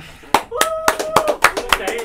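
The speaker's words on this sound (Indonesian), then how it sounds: "kita tepuk tangan untuk Cai." A small group claps hands in a welcome, sounding as roughly eight loud, close, evenly spaced claps across two seconds. Faint voices mingle between the claps.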